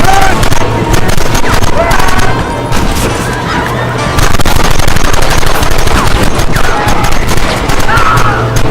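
Gunfire in Red Dead Redemption: loud, rapid, sustained shots crackling almost without pause over about nine seconds, with brief dips, as voices call out underneath.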